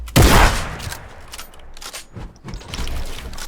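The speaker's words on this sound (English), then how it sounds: "I want to shoot as early as possible without actually shooting my wall." Gunfire in the Fortnite video game: a sharp, loud shot opens, followed by scattered fainter clicks and pops and a rattling burst of fire near the end, with no speech.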